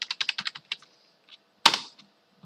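Keystrokes on a computer keyboard as a password is typed in during a Debian 9 server login, a quick run of close, crisp clicks followed after a pause by one louder, heavier key strike, with no talking.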